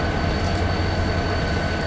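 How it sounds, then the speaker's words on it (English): An Amtrak passenger train, train 88 out of Norfolk, Virginia, led by an HHP8 electric locomotive with eight cars, roars past close by in a steady, loud rush of wheels and rail noise with no talk. "leading train 88 out of Norfolk, Virginia."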